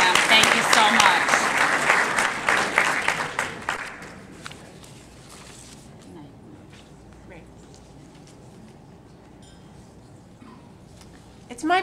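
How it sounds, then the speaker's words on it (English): An audience at a business recognition event bursts into dense applause that tapers off after about four seconds into quiet room tone, with scattered taps and a brief pickup at the very end. "I just want to give another round of applause"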